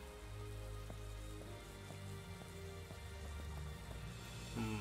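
Steady rain falls in Pokémon Sword and Shield, a continuous patter with scattered droplet ticks and a low rumbling bed, fairly quiet and without talk.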